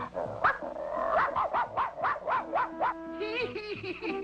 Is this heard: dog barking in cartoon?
yes